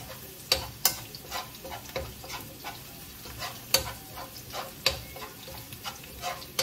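Garlic frying in a pan at home for chicken kaldereta, a steady sizzle broken by sharp ticks and pops from spattering oil and stirring.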